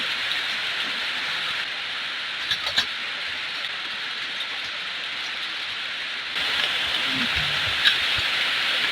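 Steady rain pours over a flooded thick forest, a dense even hiss that holds throughout with a few faint knocks and drips, no voices.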